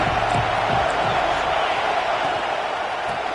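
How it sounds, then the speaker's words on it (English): An Auburn football stadium crowd roars in a continuous, loud wash of cheering and whoops, with faint voices mixed into the din. "This crowd ready to make its presence known."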